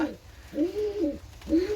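Pigeons in a loft give soft, low cooing calls, three rounded rising-and-falling coos spaced out over a quiet background, close by.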